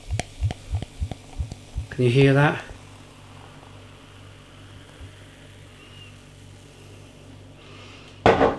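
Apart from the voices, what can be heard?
beer glugging as it is poured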